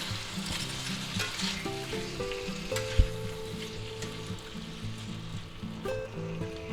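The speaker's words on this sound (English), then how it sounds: "we'll give that a quick stir" Hot Italian sausage with sliced green and red peppers and onions fries in a pan, a continuous crackling sizzle broken by a sharp clank and scraping as a utensil stirs the mix; no speech.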